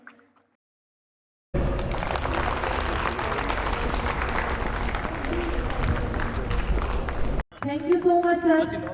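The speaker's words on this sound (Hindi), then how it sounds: "जोरदार तालियां व्यवस्थापक महोदय जी के लिए" After a short silence, an audience at a Savitribai Phule birth anniversary unveiling ceremony breaks into sustained clapping for about six seconds. It stops abruptly, and a voice begins speaking right after.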